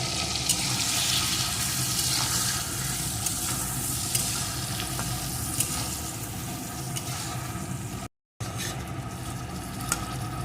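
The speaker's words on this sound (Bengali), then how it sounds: "দিয়ে দেবো হলুদ গুঁড়ো এখন সুন্দর করে বেশ কিছুক্ষণ কষিয়ে নেবো" Spices sautéed with turmeric powder in a pan for a vegetarian dish, a continuous dense sizzle and hiss from start to finish, broken by a momentary dropout near the end.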